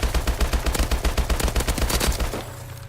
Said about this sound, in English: if you were shooting wildly, let's try, fully automatic